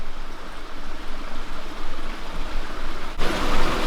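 A nearby spring runs with a continuous, fairly loud rush of flowing water that swells slightly toward the end, with no voices.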